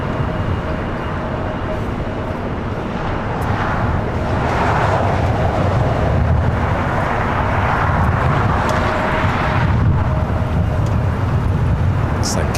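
An Emirates airliner taxis toward the Tom Bradley terminal at LAX, a steady low engine rumble and broadband roar holding for the whole stretch, swelling slightly midway, with a soft whine above and no talk.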